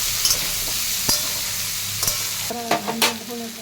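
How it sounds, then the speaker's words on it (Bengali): Chopped vegetables for a Malabar spinach dish fry and are stirred in a pan, giving a steady sizzle with several sharp scraping strokes of the spatula, closer and busier toward the end. "এবার এগুলোকে ভালো করে ভেজে নেওয়া হবে।"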